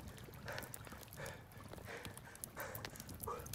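Horse hooves clip-clop in the medieval life-sim game Medieval Dynasty, a steady walking rhythm of soft repeated thuds over a constant ambient bed, moderately close with no talking.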